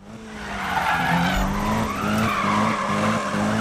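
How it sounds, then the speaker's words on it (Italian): Drifting car in Need for Speed: a continuous high tire squeal rides over a steady, loud engine drone, wavering in pitch as the car slides through a corner. "Ho fatto una derapata assurda"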